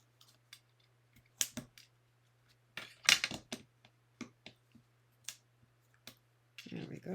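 Paper strips being folded against a card base for a lattice fun-fold card, heard as scattered light crisp clicks and creases at close range, with a soft voice near the end.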